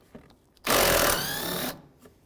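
A 10mm bolt being backed out on a 2015-2019 Hyundai Sonata A/C condenser, a loud burst of power-tool whirring lasting about a second, close by, with quiet clicks around it.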